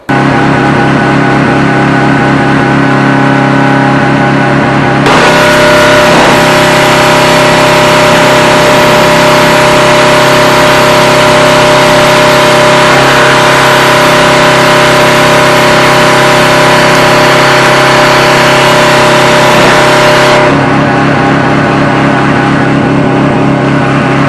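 Gas-engine 4800 psi pressure washer running for wet dustless sandblasting, its engine droning loud and steady, then a harsher full-band spray hiss joins for about fifteen seconds before dropping back to the engine alone.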